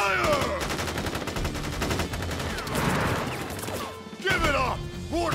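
Rapid volleys of rifle fire from soldiers in the game Crisis Core, loud and dense bursts of gunshots with crashes and impacts, a brief lull partway through before firing resumes.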